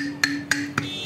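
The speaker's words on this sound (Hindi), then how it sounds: "हथौड़ी से हल्का हल्का इसे पुश करें, ठीक इस तरीके से हथौड़ी से हल्का हल्का" A hammer lightly taps the front shock absorber of an e-rickshaw to push it into place: four sharp, evenly spaced metallic knocks, close and distinct over a steady background hum.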